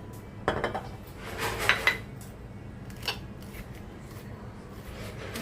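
A knife makes light cuts into sea fish on a board for a fish plate: a few close, crisp scraping clicks clustered early, then a lone tap and quiet room tone.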